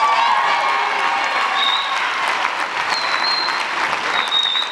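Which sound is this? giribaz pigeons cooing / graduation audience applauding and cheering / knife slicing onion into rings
graduation audience applauding and cheering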